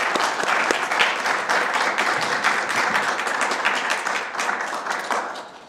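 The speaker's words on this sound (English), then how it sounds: "I think we should give another round of applause to the students" At a literary journal debut, an audience gives the students a loud round of applause, with dense clapping and some distinct close hand claps standing out, steady throughout and tapering slightly at the end.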